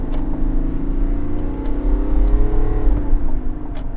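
A Chevrolet Tahoe with a 3-liter inline-six turbo diesel Duramax accelerates, its engine hum rising steadily in pitch from inside the cabin, moderately loud and continuous with a low road rumble beneath.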